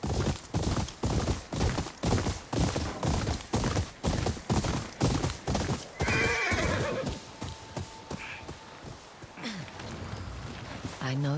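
Horses in the video game Ghost of Yotei: a rapid run of galloping hoofbeats, then a loud neigh and whinnying, with game sounds and voices around.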